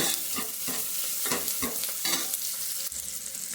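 Spices and onion being tempered in hot oil, a loud crackling sizzle punctuated by rhythmic stirring scrapes, close up with no talking.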